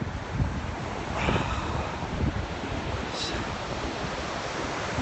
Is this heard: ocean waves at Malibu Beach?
yes